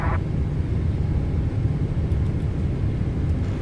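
A Boeing 777-300 in Microsoft Flight Simulator 2024 produces a steady low engine rumble with cabin drone, a continuous mid-distance hum without voices.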